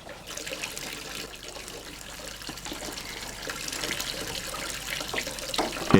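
Water and olive oil streaming out of soaked esparto pressing mats under a traditional animal-driven oil mill press into a collecting container, a steady splashing flow that builds slightly toward the end.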